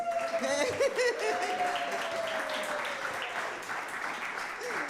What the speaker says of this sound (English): Where's that wild applause that was promised?